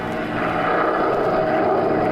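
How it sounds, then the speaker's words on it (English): A small propeller plane drones loudly and steadily from up close, its engine hum filling the cabin without pause. "The little plane rocked, rolled, and practically stood still in midair."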